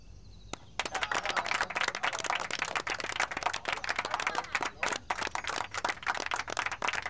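An audience applauds to celebrate a French army victory in a Vietnamese historical drama. Dense, crisp clapping from many hands carries on steadily after one early clap.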